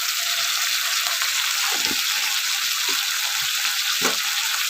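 Spices with turmeric and salt fry in a pan, giving a steady, dense sizzle with occasional soft scrapes and stirring knocks.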